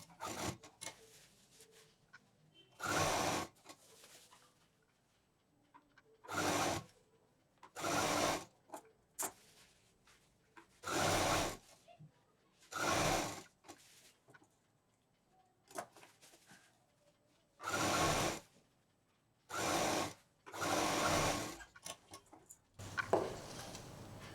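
A sewing machine stitches piping onto a patchwork bag in a series of loud bursts of about a second each, separated by quiet pauses.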